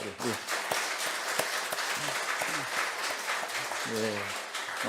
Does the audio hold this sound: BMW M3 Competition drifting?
no